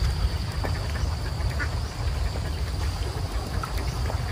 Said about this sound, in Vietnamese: những con vịt nó gặp nước nó sẽ tắm